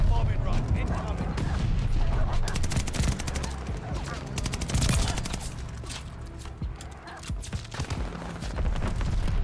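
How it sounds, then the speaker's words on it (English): Video game bombing run with a dense, continuous barrage of gunfire and booming explosions throughout, loud and close, with a voice talking over parts of it. "Allies call the bombing run. Incoming."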